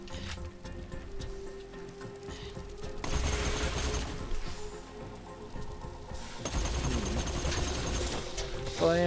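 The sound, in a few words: rapid gunfire from very fast gun in Borderlands video game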